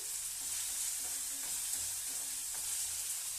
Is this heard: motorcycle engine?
no